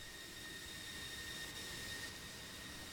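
An F-16C Viper jet engine in the DCS flight simulator hums with a faint, steady high whine over a soft rushing background, with no rise in throttle evident and no voices.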